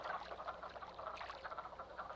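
A dense chorus of frogs croaking rapidly and continuously, fairly loud and close, with overlapping calls and no voices.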